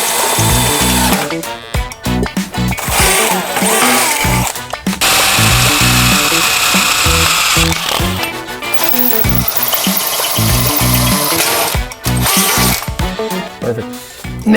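A power drill bores a hole while preparing a Geo Tracker for winter, with loud sustained whirring that stops and restarts in several bursts and runs nearly continuously across the clip.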